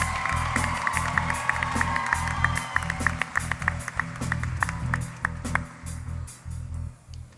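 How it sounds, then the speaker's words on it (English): A talent-show audience gives a round of applause, a steady mass of clapping with sharp individual claps standing out, under a low rhythmic music bed, fading toward the end. "Ladies and gentlemen, please give another round of applause to Myah Englebrecht."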